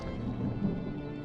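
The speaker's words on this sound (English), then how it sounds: "Was that thunder? Still distant." Distant thunder rumbles low and steady through the game Draugen, a soft continuous roll mixed with rain-like hiss, heard for about a second with no talking.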